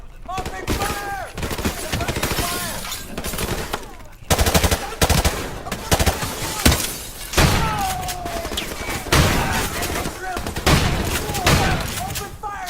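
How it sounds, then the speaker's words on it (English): In a Modern Warfare firefight, dense rapid automatic gunfire rattles in close, loud bursts with heavy thuds mixed in, and shouted voices keep breaking through the shooting. "Enemy contact! Bottom floor! Open fire!"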